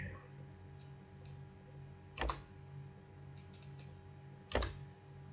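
Key presses on a computer keyboard, including the Enter key, sound as faint, isolated clicks, with two slightly firmer taps standing out against a quiet background hum and no talk.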